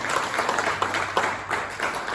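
Congregation applauding in a church service, a steady mass of clapping at moderate level that continues without any talk over it.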